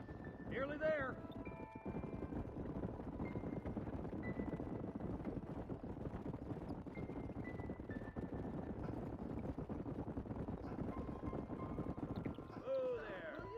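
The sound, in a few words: horses clip-clopping in Red Dead video game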